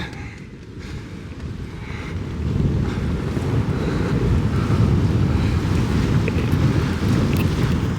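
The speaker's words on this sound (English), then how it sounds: "Ooh, it's windy up here." Strong wind buffets the microphone at sea, a steady low roar with surf and water rushing beneath it, growing louder after the first couple of seconds.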